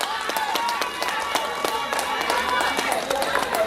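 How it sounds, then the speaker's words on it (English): Crowd applause at an NDM political rally in St. Lucia: scattered claps and cheering rise beneath an amplified voice over a PA system, steady and fairly dense throughout. "One more round of applause for your own"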